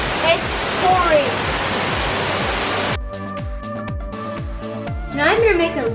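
Soft sand slime pours and slumps under its own weight, making a continuous wet, grainy rushing, then a run of soft, evenly spaced squelchy pats, with a brief voice near the end.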